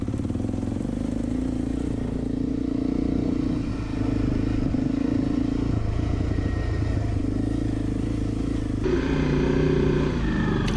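Honda CRF250L dirt bike engine rumbling steadily and close on hot, dusty hills, a continuous loud drone with a shift in tone near the end as the throttle changes.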